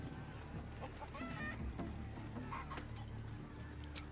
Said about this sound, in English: You just gotta chase the chicken through the course to the posts there, right?